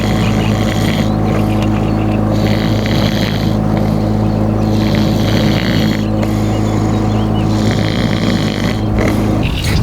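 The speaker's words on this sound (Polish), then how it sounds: "łódka się rusza I on i my nie... płyniemy z jakąś prędkością" A houseboat cruising on the Oder river gives off a steady, close engine drone with a deep, even hum and a hiss of water. It stays constant throughout, with no voices.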